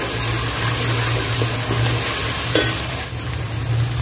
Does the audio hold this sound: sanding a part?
no